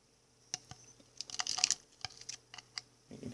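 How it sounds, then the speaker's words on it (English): A superworm wriggling and pushing through substrate near a burrow in an enclosure for a Psalmopoeus irminia tarantula, heard as soft, wet-sounding rustles and faint crackles in short bursts, quiet and close, with no talking. "That's the sound of a superworm."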